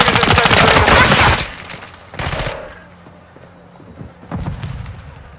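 Modern Warfare 2 gunfire rattles in a loud, dense burst of rapid shots, then two shorter bursts after a lull, with quieter background noise between.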